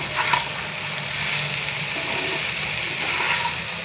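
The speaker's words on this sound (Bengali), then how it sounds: "এখন ডিমের সাথে মশলার সাথে ভালোভাবে অ্যাডজাস্ট করে কষিয়ে নেব।" Eggs and spices sizzle and fry steadily in a pan, a continuous close hiss with faint stirring and no voices.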